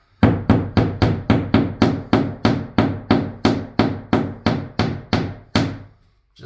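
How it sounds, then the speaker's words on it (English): Hammer tapping plastic drywall anchors flush into a bathroom wall, about fifteen sharp, evenly spaced knocks in a steady rhythm, loud and close, with nothing else heard. "you're going to take a hammer and just tap them"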